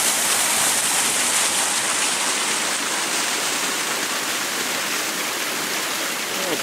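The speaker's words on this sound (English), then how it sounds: "And this will be the largest waterfall. So maybe a 6 or 7 foot drop right there" The largest waterfall on the Manistee River Trail, a six or seven foot drop near a small bridge, roars close by as a loud, unbroken rush of falling water.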